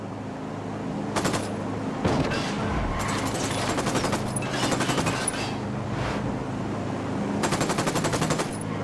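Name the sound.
gunfire in Ghost Recon Wildlands video game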